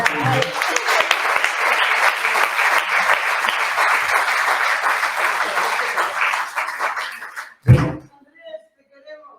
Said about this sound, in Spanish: Un aplauso entre nosotros también.